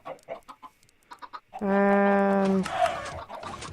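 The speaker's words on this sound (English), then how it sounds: "I'll just place a few chickens" Minecraft chickens being placed in the game, a short burst of clucking and squawking from the blocky birds, with someone talking just before and briefly after.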